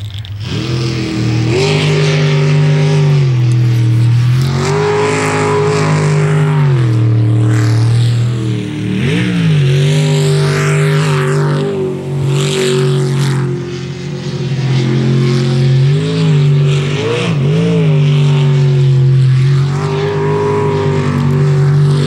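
A race car blasts toward the finish of a timed run, its engine roaring loud and close throughout with rising and falling revs and gear changes.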